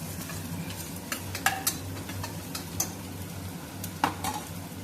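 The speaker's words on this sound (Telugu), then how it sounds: "వేగిందండి, ఉల్లిపాయ వేగిపోయింది." Onions frying in a pan for mutton curry, a soft steady sizzle with periodic sharp clinks and scrapes of a spoon stirring, and a low hum underneath.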